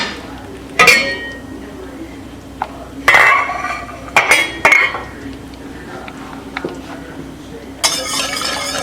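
Cooked creamy cheesy potatoes being plated beside a London broil roast, with sharp clinks and scrapes of a metal utensil against a plate and pan in separate bursts, a softer rattle closing, close by and loud.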